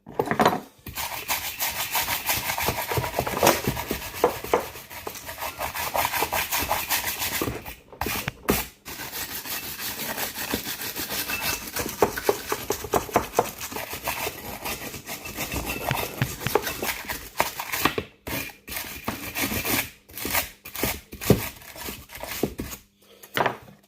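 Steady brisk scrubbing with a brush, continuous rough rubbing strokes for over twenty seconds, close and loud, with a few brief pauses.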